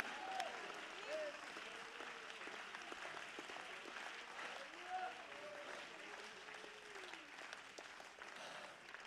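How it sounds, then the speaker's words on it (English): A church congregation stands and claps, with steady applause running throughout beneath a preacher's sung or shouted voice and organ-like tones. "You ought to get on your feet and clap your hands"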